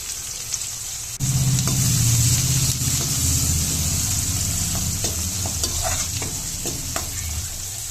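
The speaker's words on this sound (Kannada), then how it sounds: "ಈಗ ಇದಕ್ಕೆ ಬಟಾಣಿ ಸೇರಿಸ್ಕೊಂಡು ಒಂದು ನಿಮಿಷ ಫ್ರೈ ಮಾಡ್ಕೋಬೇಕು" Green peas and turmeric frying in hot oil in a pan, a loud sizzle bursting in as they go in, then a steady crackle under repeated close scraping and clinking strokes of a stirring spoon.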